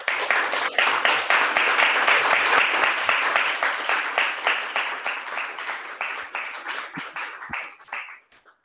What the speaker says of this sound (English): I hope you heard the applause